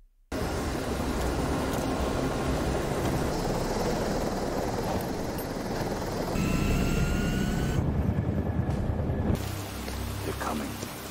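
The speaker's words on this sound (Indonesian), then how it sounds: "Dengan skill bermodalkan main simulator, Bang ini mulai nerbangin helikopternya." A helicopter flies in an action film, its steady broadband rotor and engine roar loud and continuous, briefly cut off near the end before resuming.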